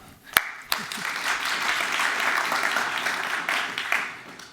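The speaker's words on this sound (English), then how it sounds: "Please, a warm applause." Forum audience at a German-Israeli health and AI kickoff event breaks into warm applause, beginning with a couple of sharp isolated claps before swelling into steady crowd clapping that tapers slightly near the end.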